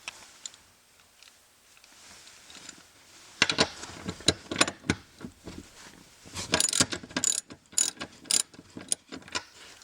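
A ratchet wrench backs out E20 Torx bolts holding a Hummer H2 seat, starting faint and then turning into loud, close bursts of rapid clicking in uneven runs, with no talking.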